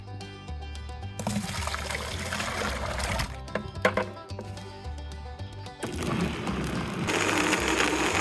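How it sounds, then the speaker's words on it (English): Blended fish compost puree pours into a bucket in thick, uneven bursts, with gurgling and splattering that stops briefly and then resumes, loud and close. "we're gonna pour this in a bucket"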